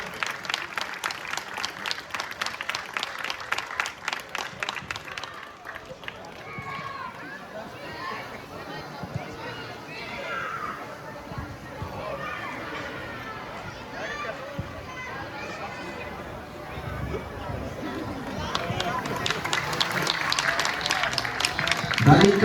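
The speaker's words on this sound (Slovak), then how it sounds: "Obrovský potlesk." Crowd applause breaks out at a youth football tournament awards ceremony in the under-11 category, sustained clapping that dips into chatter and a voice over a speaker, then swells loudly again at the end.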